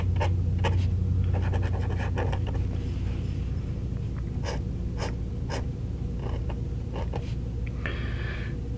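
A vintage gold-filled fountain pen with a very soft, sharp nib writes on paper, giving a steady run of faint scratchy strokes with small taps and pauses over a low background rumble, close to the microphone.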